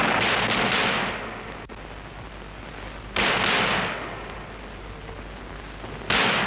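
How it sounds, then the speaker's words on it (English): Gunfire at a London mews flat in a 1962-set film reconstruction: three loud, sharp bursts spaced about three seconds apart, each decaying into a noisy wash, with no talk. "Seven shots are fired at the Wimpole Mews flat of Dr. Stephen Ward"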